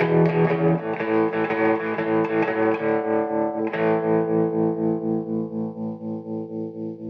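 Electric guitar run through a Lovepedal Blue Wave tremolo and a Euphoria boost pedal, giving a loud, driven chord tone that is strummed several times, then a fresh strike near the middle that rings out and slowly decays, with a shimmering pulse.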